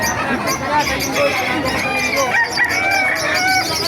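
A rooster crows with drawn-out calls among clucking chickens, with a busy background of voices and noise throughout.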